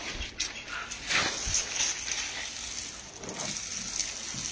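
A garden hose runs water outdoors during cleaning outside a house, giving a steady splashing hiss with brief gushes, close by and alone without talk.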